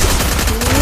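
A rapid burst of gunfire in the battle royale game Garena Free Fire, loud and close, a dense rattle of shots lasting under a second.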